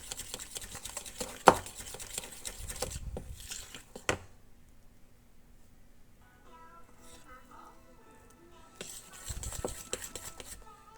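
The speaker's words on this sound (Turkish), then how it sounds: "İyicene karıştırıyorum." A spoon stirs avocado pancake batter in a bowl, giving light scraping and tapping clicks in short bursts, with quieter stretches between them.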